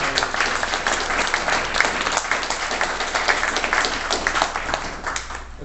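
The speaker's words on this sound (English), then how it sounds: "let's real quick give yourselves a round of applause for showing up here today" Sustained applause from a forum audience gathered for a regional discussion on homelessness, dense steady clapping filling the room evenly for several seconds.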